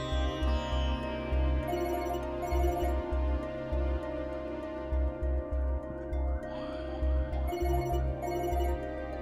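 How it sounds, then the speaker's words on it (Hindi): A telephone rings with a repeated electronic trill in a Pakistani TV drama's domestic scene, sounding in short bursts over a steady musical background score, with no talk during the ringing. "अरे भाई साहब का फोन।"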